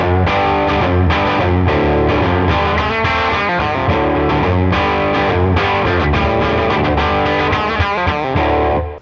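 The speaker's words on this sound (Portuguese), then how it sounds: "Esse é o som do ampli." An electric guitar pushed hard into an overdriven Tone King amp makes a thick, saturated wall of strummed chords and riffs that keeps going without a break, loud and dense, with no voice over it.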